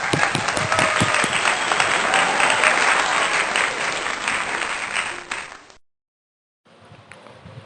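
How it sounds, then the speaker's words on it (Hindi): A congregation at a Sunday worship service gives a dense, loud round of applause that runs about five seconds, fades out into silence, then resumes faintly. "तालियां"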